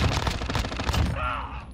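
Rapid bursts of gunfire from a building in a shooter video game, loud and close, crackling continuously before cutting off into a thin tonal ring.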